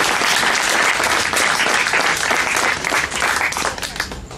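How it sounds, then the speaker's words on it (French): An audience applauds for Acte 7 at an evening event, loud, dense clapping from a large crowd, sustained throughout and easing slightly toward the end. "Applaudissez pour Acte 7."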